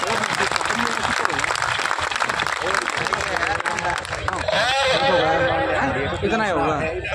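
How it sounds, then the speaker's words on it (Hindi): A rally crowd claps loudly and continuously for the full stretch, under someone speaking over a loudspeaker in Hindi, with some crowd chatter mixed in. "बहुत जोरदार ताली के साथ स्वागत करें"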